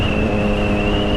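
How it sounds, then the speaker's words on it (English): A Triumph Street Triple 675 motorcycle with a loud aftermarket exhaust drones steadily and close by on a foggy winter commute, with a constant engine note and no talking. "a pretty fucking loud exhaust on my motorcycle"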